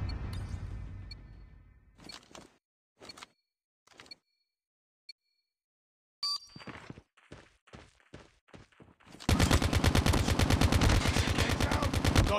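Gunfire in Call of Duty Mobile on the Pine map, scattered single shots and short bursts separated by near silence, then a rapid sustained automatic burst at close range to finish.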